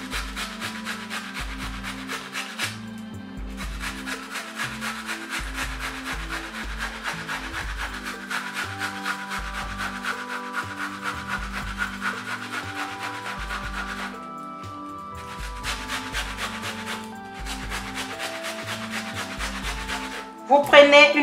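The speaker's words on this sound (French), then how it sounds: "Je vais prendre un grattoir que je vais gratter mon oignon." A scraper scrapes an onion in a kitchen, a repeated rhythmic rasping and rubbing close by, with brief pauses between strokes.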